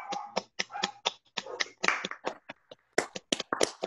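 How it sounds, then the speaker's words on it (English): Scattered clapping from participants in an online meeting after being unmuted, a few separate hands heard as uneven bursts of claps and taps, close and fairly quiet, with short gaps between them. "can we unmute everybody at the same time for a moment so they can clap?"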